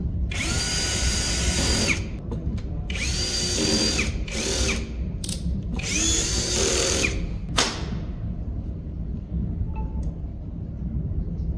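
A power drill drives B3 screws during a GOBEL 15kWh solar battery installation, with several loud, sustained whirring bursts separated by short pauses, then a quieter tail.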